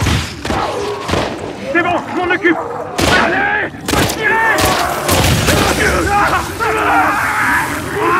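Gunfire in The Last of Us Part 2 comes as repeated sharp, loud shots and booms spread across a tense fight, mixed with groans, yells and overlapping voices.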